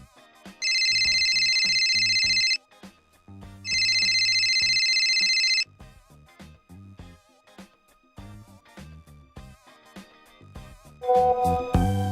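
Phone ringing in a domestic scene, two long electronic ringtone bursts close by and clear, separated by a short pause, with quiet household sounds and a brief clatter afterwards.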